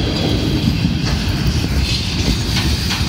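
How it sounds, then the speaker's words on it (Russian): Two freight trains, one a hopper train, roll past a railway level crossing together, a loud, continuous rumble with rhythmic wheel clatter close by throughout. "Два поезда, один на другой."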